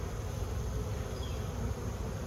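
Starving honeybees hum at their hive during late-season feeding, with goldenrod in bloom nearby; a low, continuous buzz holds steady and faint throughout with no voices.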